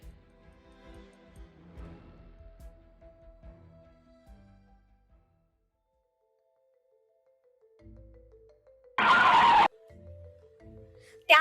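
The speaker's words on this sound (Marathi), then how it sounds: "त्याच वेळी इकडे गेटच्या आवारात सक्षमची गाडी थांबली." A car skids to a stop at a gate, with a short, loud tire screech bursting out after a quiet stretch and quieter engine and background sounds around it.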